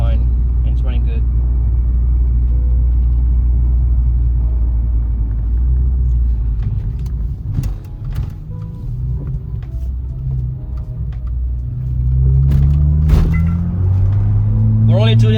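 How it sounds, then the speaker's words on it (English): A BMW F30 with a Dorch stage 2 high-pressure fuel pump runs not yet warmed up, its engine a deep steady rumble with small rises in revs and someone talking over it. "car seems to be fine and it's running good"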